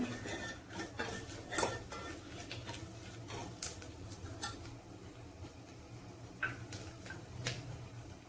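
A spoon stirs chicken masala through methi pulao in a pot with soft repeated scrapes and light metallic ticks over a steady low background hiss.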